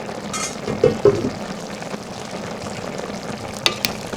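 Galbi-jjim braised short ribs simmer in a pot over medium heat, giving a steady soft bubbling sizzle with a few brief clinks and a light knock near the end, with no talking.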